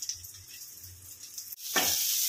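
Tomato, onion, garlic, ginger, a small piece of cinnamon and coriander roasting in a pan, giving a soft sizzle that swells into a louder, steady hiss after a brief pause; no talking.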